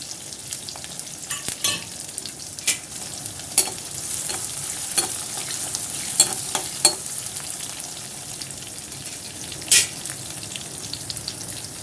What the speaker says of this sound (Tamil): கருவேப்பிலையும் சேர்த்து நல்லா வதக்கிக்கலாம்